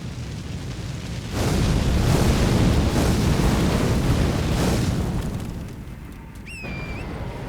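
Repeated explosions in Elden Ring: Shadow of the Erdtree, a loud rumbling roar building and swelling for several seconds before fading, with a few faint high tonal game effects near the end and no talking.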